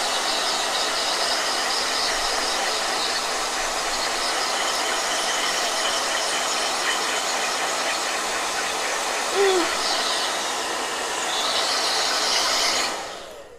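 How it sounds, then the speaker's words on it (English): A blow dryer runs steadily and loudly for the whole stretch, its broad airy hiss unbroken, then cuts off abruptly right at the end. "Blow dryer."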